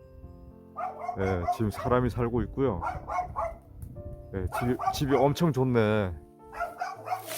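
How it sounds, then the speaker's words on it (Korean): A dog at a house in a rural village barks repeatedly in loud, rhythmic bursts, mixed with someone speaking nearby. "이제 개가 엄청 짖어요"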